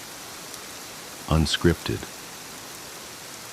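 Steady rain hiss runs throughout as a soft, even background, with a short stretch of a person talking over it midway.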